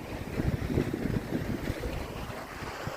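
A boat moves across open sea while fishing, with waves splashing and water sloshing against the hull under steady wind noise on the microphone, continuous and fairly close, with no voices.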